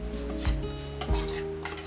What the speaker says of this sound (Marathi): ओके, तर आता आपण ते मिक्सिंगला सुरुवात करूया